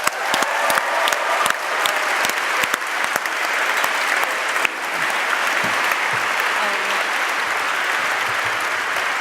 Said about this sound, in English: I'd like to just get a huge round of applause and a thank you to the Boston Book Festival for having us here.